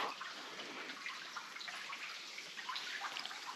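Water falls in a steady, hissing rush inside a cave, faint and continuous, with no voices.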